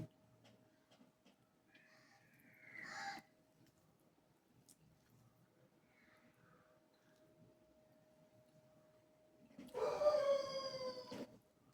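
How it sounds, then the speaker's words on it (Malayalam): A dog outside, some distance away, gives two separate bursts of barking and howling, a short one early and a longer, louder one near the end. "പുറത്തൊരു പട്ടിയുണ്ട്"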